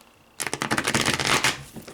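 Tarot cards being riffle-shuffled by hand close up, a quick burst of crisp rapid flutters lasting about a second and a half, then fading, with no talking.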